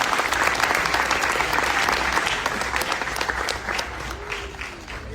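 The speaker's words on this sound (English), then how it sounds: "Let's give Ryan one more big round of applause." An audience claps in sustained, dense applause that fills the room from start to finish and eases slightly toward the end.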